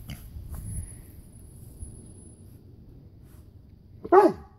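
A single sharp dog bark near the end, after several seconds of quiet low room noise.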